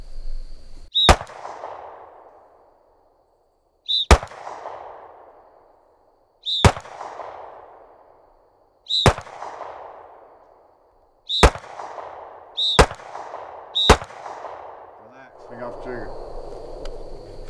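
Seven sharp handgun shots ring out in a shooting drill, each a loud crack with a decaying outdoor echo, spaced a couple of seconds apart with the last two closer together, followed by a faint voice.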